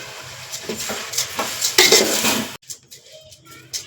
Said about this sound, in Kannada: ಅಕ್ಕಿ ಹಾಕಿದ ಮೇಲೆ ಸ್ವಲ್ಪ ಚೆಂದ ಕಲಿಸ್ಕೊಳ್ಳಿ